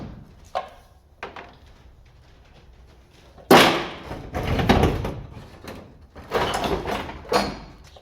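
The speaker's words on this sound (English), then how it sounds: "Set that back door back in place." Back door of a van being set back in place during a rebuild: scattered knocks, then a loud scraping thud followed by rattling bangs and clunks of the panel being fitted, close by with no talk.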